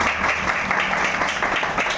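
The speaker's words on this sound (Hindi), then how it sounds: "तो राय साहब के लिए जोरदार तालियां होगी।" Crowd applause at a startup mart inauguration in Lalganj tehsil, Azamgarh, a steady wash of many hands clapping at even strength throughout.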